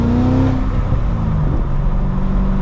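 A V8 sports car, a Corvette C6 ZR1 or Mustang GT500, pulling away: a loud, deep engine drone with steady low rumble and rising harmonics, heard close from inside or beside the car, with no talk.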